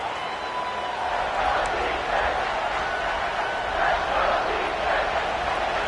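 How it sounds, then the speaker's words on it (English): Stadium crowd roaring during a football game, a steady, dense wall of cheering that holds throughout at even loudness. "this crowd is at fever pitch"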